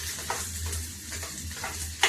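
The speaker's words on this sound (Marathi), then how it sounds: "कांदा फ्राय करायचा." Onion sizzles in oil with cumin and mustard seeds in a home kitchen pan, a constant close frying hiss with soft periodic stirring swishes and a sharper scrape at the very end.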